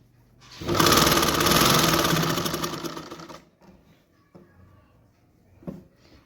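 A sewing machine runs a steady, loud whirring stitch along a half collar for about three seconds, then stops, leaving faint clicks and handling noises.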